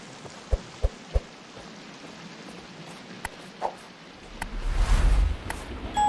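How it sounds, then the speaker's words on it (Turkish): Video game storm in Sons of the Forest: steady rain with a few sharp drips, then a deep rumble of thunder swells near the end, low and rolling. "hem kar yağıyor hem gök gürülüyor ya"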